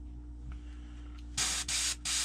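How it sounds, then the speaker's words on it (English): Airbrush spraying paint at about 30 psi in three close, steady bursts of hissing spray separated by short gaps, after a quiet stretch of low hum. "let's throw this in the airbrush"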